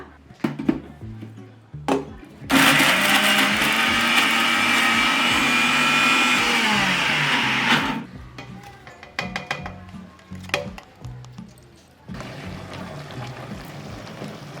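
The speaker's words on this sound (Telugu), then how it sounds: "నేను మిక్సీలో కొంచెం కచ్చపచ్చ పట్టేసి అందులో వేసేసుకుంటా" A mixer grinder coarsely grinds red chillies for a chilli pickle, a loud steady whir of about five seconds that starts and stops abruptly, with clattering handling sounds before and after.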